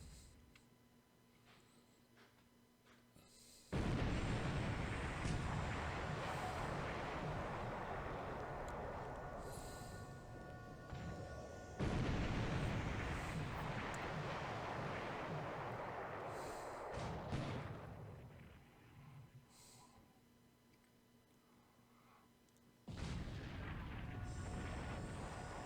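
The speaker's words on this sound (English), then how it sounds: "those 20 centimeters are pounding us. Damn 8-inch guns." Heavy 8-inch naval gunfire and shell explosions in a Pacific 1942 Japan-versus-Allies wargame, with three loud booming blasts that each crash in suddenly and rumble away slowly over a quiet background.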